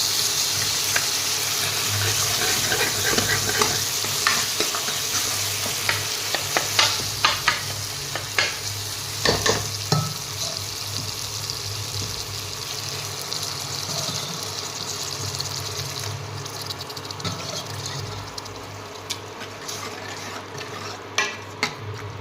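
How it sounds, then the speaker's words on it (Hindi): Chickpeas hit a hot Indian tadka and keep sizzling and frying steadily, with scraping stir strokes and spoon clinks against the pan throughout, close and fairly loud, with a faint tap-water trickle at times. "तो मैं अब इसमें चने डाल दूँगी।"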